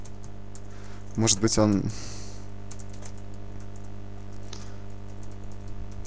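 Brief burst of typing on a computer keyboard, a quick run of close clicks lasting under a second, set against a steady background hum with someone speaking briefly.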